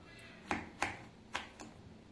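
Knife cutting through unripe green tomatoes on a board, four crisp quiet chops spaced unevenly in a quiet room.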